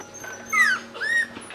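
Puppies whimpering and yipping nearby, two short high squeaky cries in quick succession over a faint low hum.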